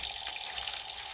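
Spring water trickles off a mossy rock face, a steady close splashing and bubbling stream, fairly loud and continuous with no voices.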